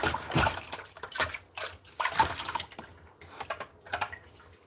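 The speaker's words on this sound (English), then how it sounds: "And rinse the bucket out." A bucket being rinsed out with water, with irregular splashes and sloshing heard close by in uneven surges.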